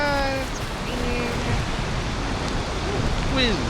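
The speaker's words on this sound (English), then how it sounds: "Yeah, it's raining." Steady rain falls in the Valheim video game world, an even wash of hiss with brief tonal game chimes drifting over it and no voices.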